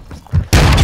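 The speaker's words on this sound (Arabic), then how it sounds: "فرقت عليه قنبلة شوف" A grenade blasts in Call of Duty: Modern Warfare 2, a sudden loud, close boom after a few soft thuds, its broad rumble sustaining to the end of the brief moment.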